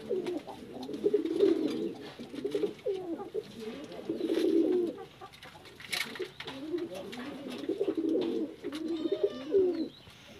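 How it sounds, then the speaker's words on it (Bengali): Several pigeons in a home loft cooing in repeated soft rolling phrases, close and rhythmic, with faint chirps between. "এখানে বহুত কবুতর আছে আমার কাছে।"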